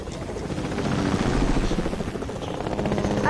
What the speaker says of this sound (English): It's okay if somebody took our helicopter.